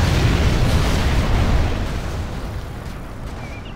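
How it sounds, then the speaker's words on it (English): A sonic boom from an Aurora bomber air raid in Command & Conquer Generals Zero Hour booms out as a loud, sustained rumble that dominates from the start and then slowly fades, with no voices. "Prepare for sonic boom."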